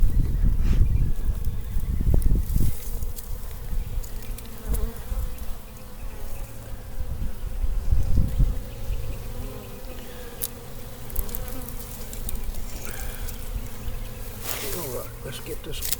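Bees swarm around a beehive with old comb inside a water meter box, a steady close insect buzz running throughout, with brief rustles and bumps and a voice occasionally talking over it.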